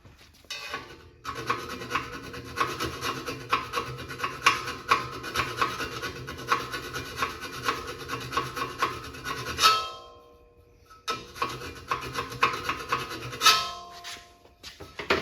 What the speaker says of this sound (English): I better grab a file and file that off